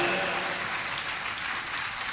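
Applause from an audience at a Jain religious discourse, a steady wash of clapping that holds at an even level throughout, with no voices standing out above it.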